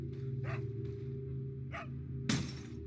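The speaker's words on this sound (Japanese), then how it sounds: "このワンちゃんはまた別なんだろうね。" A dog in Resident Evil 4 barks three times in short, sharp bursts over a low droning game soundtrack, followed by a louder crash near the end.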